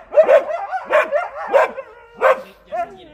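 A husky trades drawn-out howling barks and yips with a German shepherd, about five close, loud bursts in an uneven rhythm, each rising and falling like argumentative talk.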